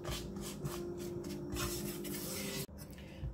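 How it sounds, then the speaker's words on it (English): A rubber spatula stirs a corn starch mixture in a Teflon saucepan, producing soft rhythmic scraping and rubbing strokes with a short break near the end. "And we'll mix it right in the saucepan. I'm using a rubber spatula so it doesn't scratch the Teflon in my pan."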